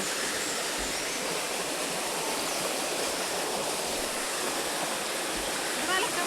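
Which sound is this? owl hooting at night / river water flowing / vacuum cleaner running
river water flowing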